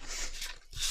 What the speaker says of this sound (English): I'm going to burnish this tape.